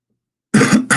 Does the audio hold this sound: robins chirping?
no